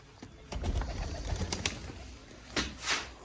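Pigeons coo close by in a loft where chicks are kept, with soft, intermittent calls and a few brief rustling bursts over a low, steady background.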